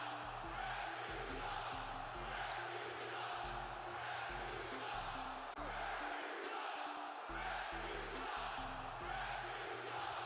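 A stadium crowd at a Commanders vs Jets 2024 preseason football game chants at the referees in a replayed recording. The dense, loud roar runs the whole time, mixed with a steady pulsing low musical beat.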